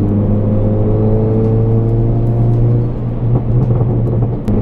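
A tuned Hyundai Elantra Sport making 411 wheel horsepower, fitted with an HKS blow-off valve, pulls hard with a loud, steady engine drone whose pitch climbs gradually, heard from inside the car with no talking.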